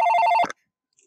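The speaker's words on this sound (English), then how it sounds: "The phone just rang" A telephone rings at home with a loud, close, rapid trilling bell burst lasting about half a second before cutting off abruptly into silence.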